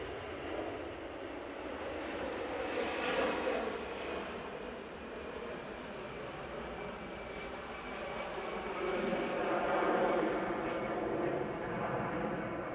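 An EasyJet airplane at Manchester Airport produces a faint, distant engine roar that swells and fades gently, a steady broadband rumble with no talk over it.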